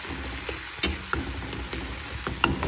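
Shrimp gravy simmers in a pan on a gas stove, a soft low sizzle broken by small irregular pops and ticks over a few seconds, fairly quiet with no voices.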